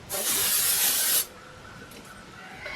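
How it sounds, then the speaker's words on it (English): A short burst of aerosol hairspray onto the top of a wig hisses loudly for about a second, then cuts off, leaving a quiet background. "I will just lightly spray the top of this"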